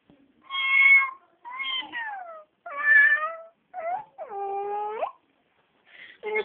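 A cartoon cat meows in a run of about six distinct, clear calls, some short and some drawn out, loud and close with brief gaps between them and no talking over them.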